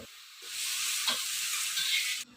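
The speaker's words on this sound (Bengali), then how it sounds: "পাঁচ রকম তরকারির ভিতরে একটু সামান্য পরিমাণ হলুদ আর লবণ দিয়ে তরকারিটাকে ঘেটে নিচ্ছে" A mixed vegetable curry with turmeric and salt is stirred in a hot pan, a steady loud sizzle and scraping of the spoon running for about two seconds before cutting off abruptly.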